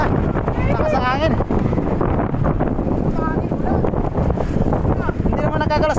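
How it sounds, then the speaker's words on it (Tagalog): Strong wind buffets the microphone in a steady roar, with people talking over it throughout. "Lakas ang hangin."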